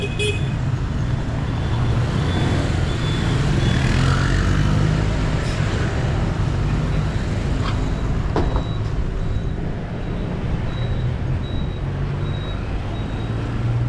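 Dense street traffic in Ho Chi Minh City, a loud continuous roar of engines with scattered horn toots and passing vehicles, heard from a footpath.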